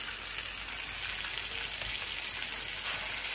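Butter sizzling and frying in a hot steak pan on a gas hob, a steady bright crackling hiss throughout, close and continuous with no talk.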